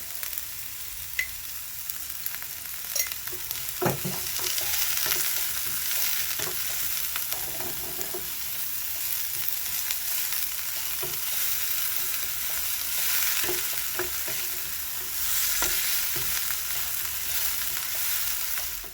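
Onions fry in a pot for a fish stew, giving a steady, close hiss of sizzling oil with occasional soft scrapes and knocks of stirring, continuous and without talk.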